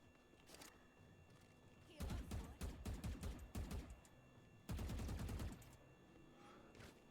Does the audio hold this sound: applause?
no